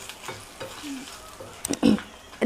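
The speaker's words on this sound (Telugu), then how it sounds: "దీనికే మిరపకాయలు బాగా వేగుతాయి" Dry red chillies frying in a hot pan for Udupi sambar tempering, a soft crackle under occasional stirring, with a few louder sizzling bursts near the end, close and fairly quiet.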